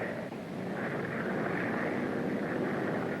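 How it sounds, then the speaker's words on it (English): An aeroplane approaches as a steady, continuous engine drone with a mild rising swell, a dense mid-range roar from a 1935 film soundtrack. "Yes, I can see him coming now, Mr. McAllen's aeroplane."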